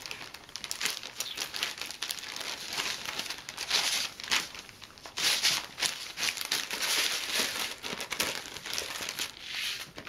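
Beads in plastic packets being shaken and handled, giving close, busy crinkling and crackling with bursts of rattling that come and go over about ten seconds, with no voices.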